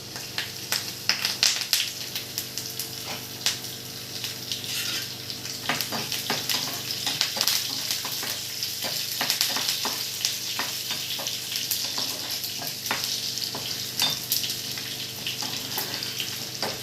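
Garlic, curry leaves and tempering spices drop into hot oil and hiss in a loud, continuous sizzle that crackles and spits with many sharp pops over several seconds, close by and without speech.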